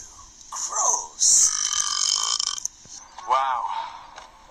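Several loud, drawn-out burps in close succession, each a rough, resonant belch lasting about a second, up close and prominent, with voices speaking around them.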